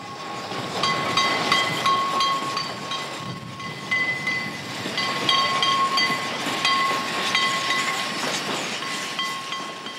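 Steam trains running on street track through a small East German town, with a continuous rolling rumble of railcars, faint clatter and hissing steam, and a sustained whistle-like tone recurring throughout, steady and moderately close.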